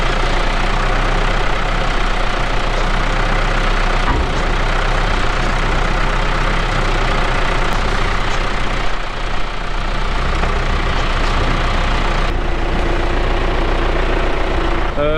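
A tractor engine idles steadily and loudly for the whole stretch, with a deep, continuous low rumble that holds without revving; the tractor has a lift fitted and is working on a farm.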